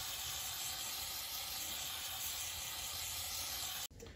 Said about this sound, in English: Just using a little bit of brake clean here.